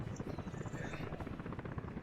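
Helicopter in the city-building game Workers & Resources, a steady droning rotor buzz with dense low pulsing that holds at an even level for the whole stretch, no voices over it.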